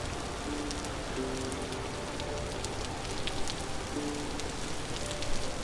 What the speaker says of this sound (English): you might not like that I'm out in the rain.